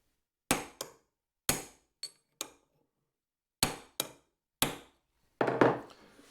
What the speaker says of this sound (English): on my impromptu anvil here, I can just give these ears a bit of a tap